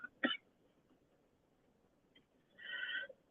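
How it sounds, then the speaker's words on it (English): A dry cough from a woman, one short burst near the start followed later by a brief, quieter cough-like sound, heard close up in a quiet room with no talking. "I got a dry cough now"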